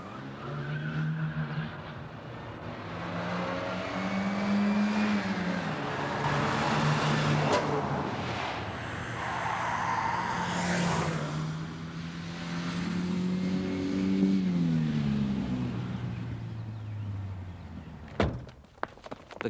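A stolen Renault getaway car speeds away, its engine revving up and down with rising and falling pitch and squealing tyres, before a few sharp knocks near the end.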